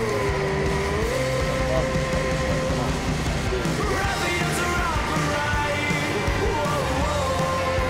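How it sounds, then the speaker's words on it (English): A car being driven in a driving challenge, its engine note rising and shifting across the whole stretch, with people shouting and talking over it. "move this car out of the way"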